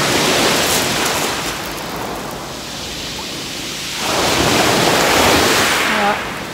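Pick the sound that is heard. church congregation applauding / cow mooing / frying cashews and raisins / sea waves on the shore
sea waves on the shore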